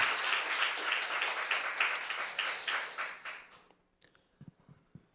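Applause from a church congregation during a worship service, a dense crowd clapping that fills the first three seconds, then thins and fades away into a few scattered claps and quiet.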